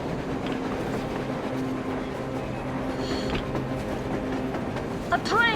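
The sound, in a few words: train passing, from video game Metro Exodus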